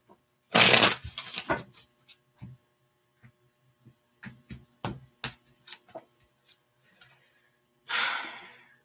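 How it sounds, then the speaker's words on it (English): A deck of tarot cards is riffled in a loud burst near the start, followed by scattered soft taps and flicks of cards being handled and laid down, then a second quick shuffle near the end. "Last shuffle, please."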